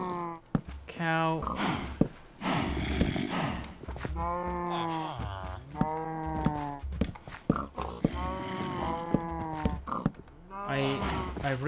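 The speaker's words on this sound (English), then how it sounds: "Cow." Cattle mooing in Minecraft: a series of drawn-out, tonal cow moos repeating one after another, fairly loud and close, with small clattering sounds between calls.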